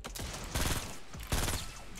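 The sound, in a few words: gunfire in a video game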